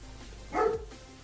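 A single dog barks once at moderate distance, a short sharp bark standing out against a quiet low hum in the room.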